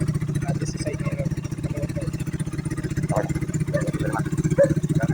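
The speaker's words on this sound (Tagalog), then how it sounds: "Ayan yung makina." A Suzuki Raider 150 motorcycle, freshly refreshed with mild porting, idles steadily nearby in a continuous low rumbling pulse, with a few light clatters on top.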